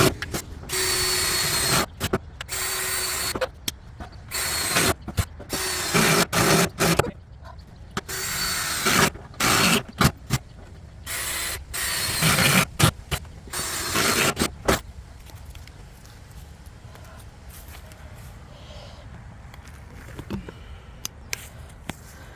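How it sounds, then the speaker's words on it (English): A drill bit bores a hole through the metal wall of a large steel planter tank, giving repeated loud grinding and ratcheting bursts with short pauses that ease into quieter, steadier drilling near the end. "it's going to take a minute for that drill bit to start carving away at the metal to make that hole"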